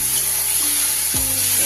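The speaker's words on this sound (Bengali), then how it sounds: "এটা একটু হালকা হাতে নাড়িয়ে দিলাম।" A ground coconut and poppy seed paste with green chilli sizzles loudly and steadily in a hot pan while it is gently stirred, with a faint low hum underneath.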